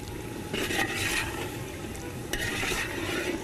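Nihari meat being roasted and stirred in a clay pot makes a continuous sizzling, bubbling wash with scraping stir strokes rising and falling, and no one talks.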